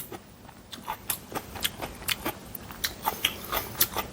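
Someone eats rice in water topped with sesame seeds, with close, crisp chewing and crunching bites in a quick, fairly regular rhythm and no talk.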